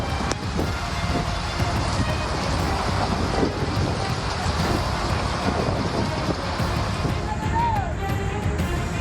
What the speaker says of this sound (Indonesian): angin kencang yang disertai hujan deras